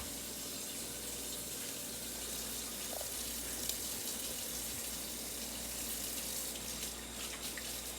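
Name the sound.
washing hands under running tap water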